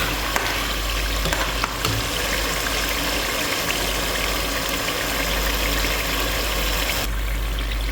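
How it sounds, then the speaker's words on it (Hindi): Minced meat keema frying with spices in a pan gives a loud, continuous dense sizzle that stays steady throughout, close up and alone with no talking. "तकरीबन 15 मिनट हमने अच्छी तरीके से कीमे को मसाले के साथ फ्राई कर लिया है"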